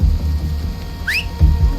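A short rising two-note whistle cue in the video game Desperados III, heard once over low rumbling game ambience with thuds before and after.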